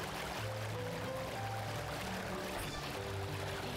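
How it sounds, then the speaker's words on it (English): Waterfall in the video game Xenoblade Chronicles, a steady full-band rush of pouring water that stays constant throughout, with faint soft tones drifting underneath. "Clear waterfall."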